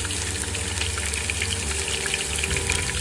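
Chicken pieces fry in hot oil over a full flame, giving a dense, steady bubbling hiss heard close up and unbroken for the whole stretch.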